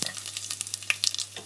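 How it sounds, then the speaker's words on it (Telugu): Chopped onions frying in about four tablespoons of hot oil inside a pressure cooker, giving a steady close crackling sizzle with small pops and stirring scrapes throughout, no voices. "ఆనియన్స్ కూడా వేసుకొని ఫ్రై చేసుకోవాలి."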